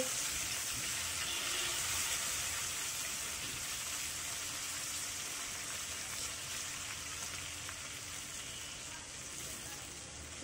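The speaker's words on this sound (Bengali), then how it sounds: "একইভাবে অন্য পাশটাও ভেজে নিব" Koi fish fry in a pan, a soft, even crackling sizzle that holds steady and fairly faint throughout, with no clear talking.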